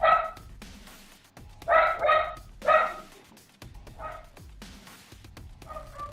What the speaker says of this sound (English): I shouldn't let him bark.